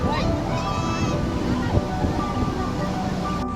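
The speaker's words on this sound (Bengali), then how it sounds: "এখানে ঢেউটা প্রচুর, এখানে এত ঢেউ নেই" Sea waves at Puri beach make a steady, broad rushing roar, with wind buffeting the microphone throughout and no clear breaks between swells.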